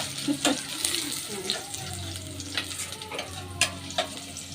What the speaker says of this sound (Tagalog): Gisa lang ito.